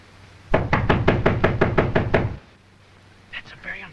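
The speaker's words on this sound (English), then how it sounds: "That's a very unfriendly knock." Knocking on a door in a 1930 film, a loud, insistent run of about nine even, hard raps, followed after a pause by brief speech.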